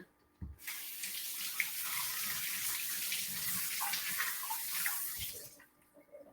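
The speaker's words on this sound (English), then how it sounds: "I'm going to run it under a little hot water" Tap water gushes steadily into a sink for several seconds, a close, even rush that starts and stops abruptly with small knocks at each end.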